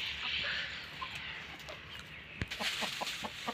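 Chickens and a rooster clucking nearby on a village farm, a steady outdoor hum with a quick cluster of sharp clucks toward the end.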